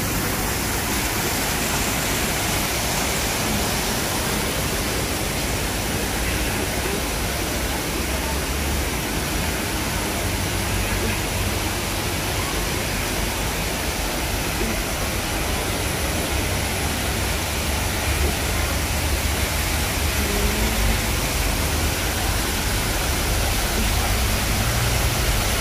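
Waterfall in a butterfly garden: a steady, loud rush of falling water that holds unbroken and even for the whole stretch, with no voices over it.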